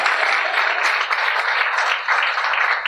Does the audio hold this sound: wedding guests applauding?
yes